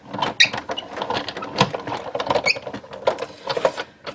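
A die cutting machine feeding a metal die and precision plate through its rollers for handmade Christmas ornaments: irregular mechanical clicks, creaks and ratcheting ticks in quick uneven succession, close and moderately loud, with no voices.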